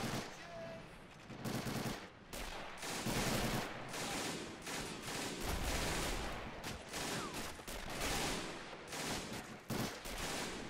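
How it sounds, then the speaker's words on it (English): Sustained automatic gunfire and rifle shots in the video game Arma 2, in a Normandy 1944 battle where soldiers shoot through a barn and its window; dense, loud bursts crackle continuously with brief pauses, close by. "Are they actually shooting through the barn at each other?"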